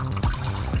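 Water running out of a dirty sink trap and cleanout during plumbing work, a short close trickle with a couple of splashy gurgles.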